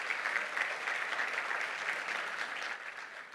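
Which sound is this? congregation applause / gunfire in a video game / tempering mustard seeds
congregation applause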